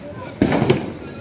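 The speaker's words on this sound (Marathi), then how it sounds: "राकेट. याचं नाव राकेट आहे." A rocket firecracker set off during Diwali celebrations gives a sudden whooshing burst with a crackle partway through, close by and loud, while people talk nearby.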